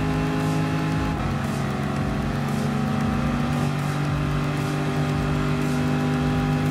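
A BMW M6 GTLM race car engine in Gran Turismo Sport holds a steady, droning high-rev note with a slight shift in pitch partway through, loud and close with no talking.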